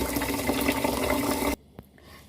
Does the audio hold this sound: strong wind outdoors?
no